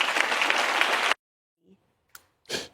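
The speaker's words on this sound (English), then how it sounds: "They clapped in Oklahoma." Audience clapping at an event in Oklahoma, a burst of applause for about a second that cuts off abruptly, followed by near silence and a couple of brief sounds.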